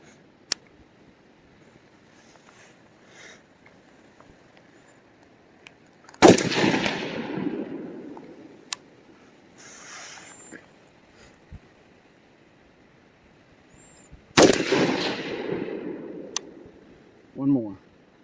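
Two loud, sharp gunshots from a Geissele Super Duty rifle crack out several seconds apart, each trailing off in a long echoing decay across an outdoor range, with a few faint clicks and handling noises between them.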